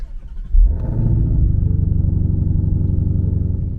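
A Shelby GT500 sports car engine idles with a deep rumble, then revs sharply near the start and settles into a steady, loud throbbing drone.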